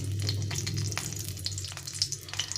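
A dried red chilli spluttering in hot oil left from frying fish, a close, continuous crackling sizzle with scattered small pops and no talk.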